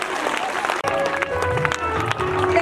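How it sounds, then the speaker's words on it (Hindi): Applause from an audience at a school annual function, scattered clapping mixed with voices and crowd chatter, fairly close and lively. "जरा तालियां तो बजा दीजिए हमारे दोस्तों के नाम"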